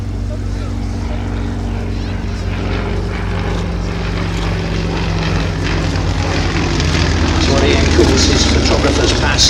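Yakovlev Yak-50 aerobatic propeller aircraft making a topside pass during a display at an air and car show, its engine drone steady and fairly loud, swelling slightly as it passes, with a commentator talking over it.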